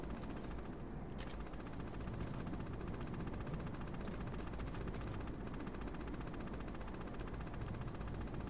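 Helicopter in the video game Metal Gear Solid: a continuous loud rotor drone and engine roar held steady throughout, with brief sharp noises near the start and no speech.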